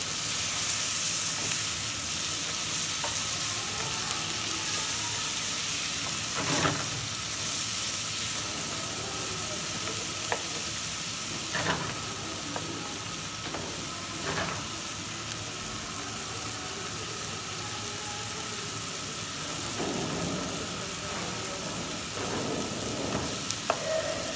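Chopped tomatoes frying with softened onions in a pan for Turkish saç tava, a continuous dense sizzle and hiss close up with a few brief scraping stirs scattered throughout, no talking.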